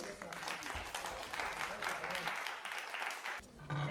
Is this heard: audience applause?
yes